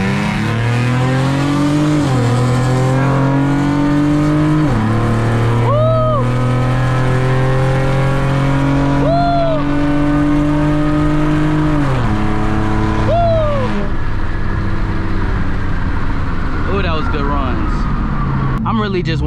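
A Ford Mustang 4.0 V6 and a Dodge Challenger SXT accelerate hard in a race, loud engine notes climbing through the revs with several sharp gear-change drops, before fading at the end.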